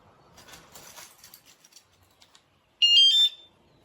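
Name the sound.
Wsdcam 113dB wireless bike alarm sounding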